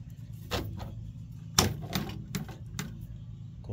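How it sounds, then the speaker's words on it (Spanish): A refrigerator capillary tube being cut, a few sharp separate snips and clicks spaced about half a second apart in a quiet room. "y cortamos lo que viene siendo el capilar"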